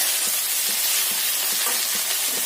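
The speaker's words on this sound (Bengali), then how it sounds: "সব সতে করবো, খুব একটা কড়কড়ি করে ভাজবো না।" Chopped chillies, tomato and red, yellow and green bell peppers sauté in a pan with a dense, even sizzle and faint stirring scrapes, close and steady throughout.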